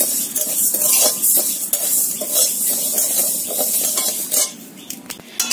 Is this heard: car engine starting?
no